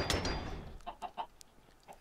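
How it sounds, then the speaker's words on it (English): Short clucks from a chicken in the video game Minecraft, a few soft separate calls spread unevenly after an initial burst of louder noise. "He just killed my chicken."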